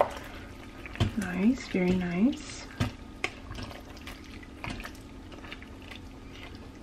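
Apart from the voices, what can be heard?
keto cauliflower dish bubbling in an Instant Pot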